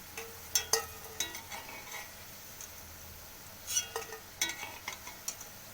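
Palm fruit fritters frying in oil are stirred, with a quiet sizzle under scattered light taps and scrapes of a spoon against the pan.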